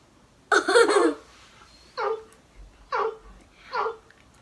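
An Amazon Echo Alexa plays a dog bark: one longer, yelping burst, then three short, evenly spaced barks, fairly close and played through a small speaker.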